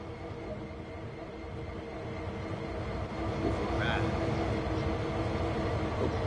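A train in Train Sim World 2 on the Cane Creek route pulls away: a steady low rumble of engine and wheels that grows louder partway through, with a brief tonal squeal or horn-like note near the middle.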